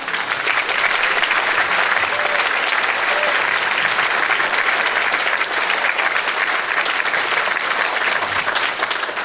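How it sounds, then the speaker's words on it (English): Loud, dense audience applause at a Republican political debate, continuous even clapping that holds at full strength for the whole stretch. "Thank you. Round of applause."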